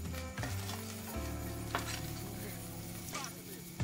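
Cheese balls fry in hot oil with a steady, dense sizzle, and a second batch goes in with brief clinks of a utensil against the pan, all up close and continuous.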